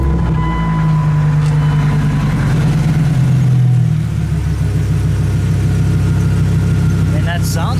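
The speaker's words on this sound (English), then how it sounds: "Lovely V10 sound." A Dodge Ram V10 engine idles after a cold morning start, a deep, steady low rumble with a slight dip in pitch partway through, loud and close, running on its own without talk.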